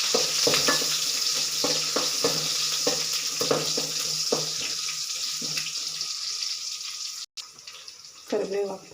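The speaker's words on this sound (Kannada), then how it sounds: "ಒಗ್ಗರಣೆಗೆ 2 ಈರುಳ್ಳಿ ಹಾಕ್ತಾಯಿದ್ದೀನಿ." Two onions hit hot tempering oil and sizzle with a steady hiss, with repeated scraping stirs of a utensil against the pan, a brief cut near the end, then louder clatter.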